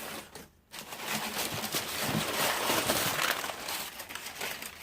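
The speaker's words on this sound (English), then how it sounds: "Take out that nice and noisy paper." Packing paper from a box of books crinkles and rustles close by, in a steady, dense wash of noise after a brief pause.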